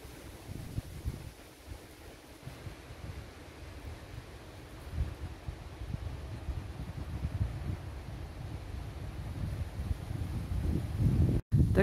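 Steady outdoor wind roaring and buffeting through park trees, including a weeping willow, in Germany, with a rustling, gusty wash that rises and falls throughout, fairly loud and close.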